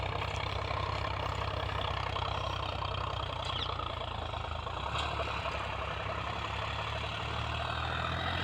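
A tractor works under load in a farm field with its lever fully down, giving a steady, continuous mid-to-low engine drone that holds throughout without letting up. No one speaks.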